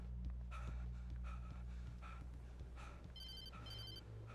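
A telephone rings in the video game Alan Wake: faint, repeated electronic bell trills in short bursts over a low ambient hum, with soft breathing-like noises between rings.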